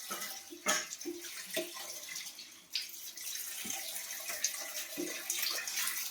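Cut fish, including pomfret, being washed under a running kitchen tap, a steady quiet splash of water with occasional knocks and clatters as the pieces are handled in the sink.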